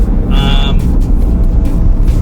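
A 1992 Mitsubishi Pajero with a 2.5-litre turbocharged engine accelerates, its deep engine drone loud and close, with a short high whine rising briefly above it.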